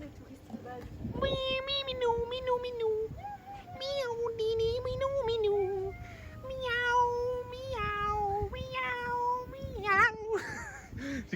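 Several small cats meow repeatedly in Egypt, their close, loud, overlapping cries coming in a steady run of pleading calls that rise and waver, with faint background noise underneath.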